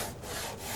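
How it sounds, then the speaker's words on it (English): A hand saw cuts through a wooden joint during cathedral restoration work, giving close, loud rasping strokes in a steady back-and-forth rhythm. "If you're sawing an ordinary joint, that's it."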